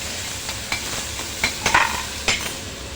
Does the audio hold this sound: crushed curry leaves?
yes